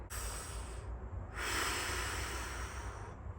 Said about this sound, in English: You're breathing wrong